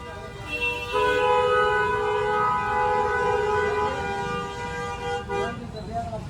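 A loud, sustained tonal horn blares for several seconds over background street noise and voices.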